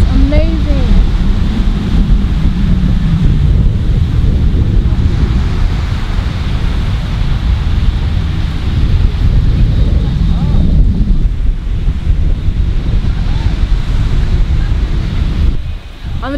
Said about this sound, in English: Look at this beautiful beach.